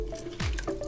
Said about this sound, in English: So we're gonna take our lemon and just squeeze